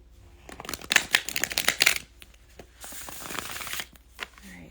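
Several bursts of crisp card riffling and flicking, close and moderately loud, with a pause and quieter shuffling afterward.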